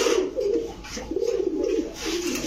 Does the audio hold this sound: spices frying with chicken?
no